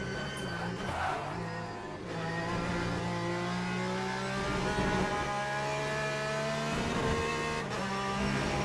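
A Porsche race car in the Le Mans Ultimate video game drones loudly and continuously, its engine revving up through gears with rising whines, brief dips at shifts, and no talk over it.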